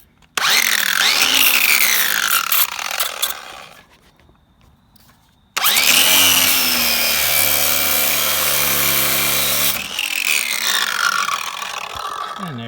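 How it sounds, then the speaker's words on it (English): A DeWalt hand grinder cuts through a boat trailer light fitting with a loud, close, harsh whine. It runs in two long bursts with a brief pause between them, and its pitch dips as it bites into the metal. "Bring out the trusty DeWalt hand grinder and"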